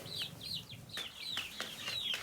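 Chickens on a small backyard flock being fed grit give a series of soft, high chirping clucks and squawks, several short calls close by, with no talking.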